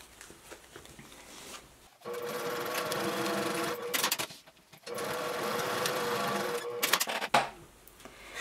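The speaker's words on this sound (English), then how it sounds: "we're just going to top stitch the very raw edges with the 1/8 inch" A sewing machine runs in two long, steady bursts separated by short pauses, topstitching raw fabric edges at 1/8 inch on a bag; a close, even whir with light mechanical clicks at the stops.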